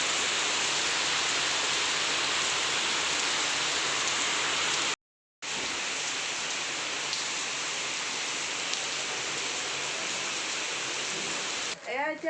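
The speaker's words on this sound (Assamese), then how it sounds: "হঠাৎ বতাহ বৰষুণ আহি গ'ল।" Sudden wind and rain pour down steadily outdoors, a loud continuous hiss of drops on surfaces that fills the scene, broken by one brief cut.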